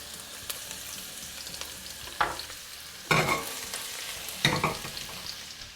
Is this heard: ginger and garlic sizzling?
yes